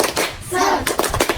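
Children in a primary-school tutoring class clap their hands in a quick rhythmic cheer, with a bright, close, patterned burst of claps mixed with young voices.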